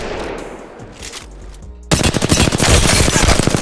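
Rapid automatic gunfire in Apex Legends, a dense burst of close, loud shots starting abruptly after a quieter stretch of game ambience.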